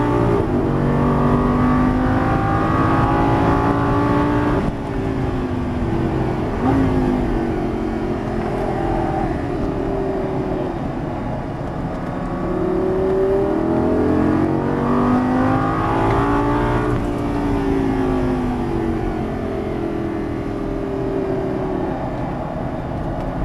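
Lamborghini Gallardo LP550 pulling hard on a race track, a loud, steady engine roar with rising and falling pitch as it accelerates and shifts, heard from inside the car throughout.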